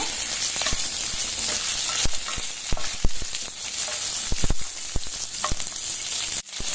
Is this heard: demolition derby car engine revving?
no